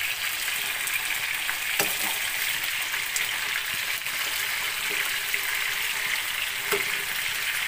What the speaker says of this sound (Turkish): Çok kızartmak lazım,